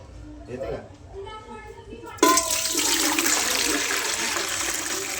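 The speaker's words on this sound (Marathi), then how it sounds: "आता आपण कासवाला टाकणार आहे पाणी" Water pours steadily into a turtle tank after a moment of quieter sounds, a continuous close-up gush that keeps going to the end, with faint voices early on.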